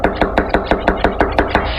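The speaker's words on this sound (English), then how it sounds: "Her 3 sons were home when a Clayton County Sheriff's deputy knocked on the door." A Clayton County Sheriff's deputy knocks on a house door: about ten loud, evenly spaced knocks in a fast, steady rhythm, close and heavy, with no voices over them.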